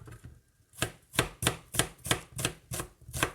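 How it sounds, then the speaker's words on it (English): Vegetables chopped on a board with a knife for a simple bangers and mash meal: about eight crisp, evenly spaced chops, close and clear, with no talking. "all we're going to do is just chop the veg up"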